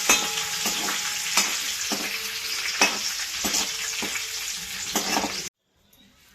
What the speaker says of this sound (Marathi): हा कढीपत्ता पण आपण असा तळून घेऊ.